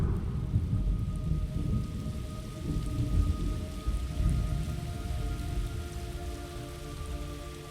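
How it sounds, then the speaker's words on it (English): Heavy rain pouring and rolling thunder in the Metal Gear Solid Delta: Snake Eater video game, a dense steady downpour with low rumbling swells underneath and a faint sustained musical drone. "It's raining blood."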